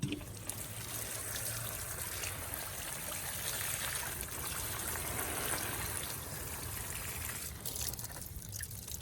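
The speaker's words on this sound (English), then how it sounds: "Watering." Okra plants growing in a bag being watered, a faint, steady stream of water pouring and trickling onto soil, continuous and quiet throughout.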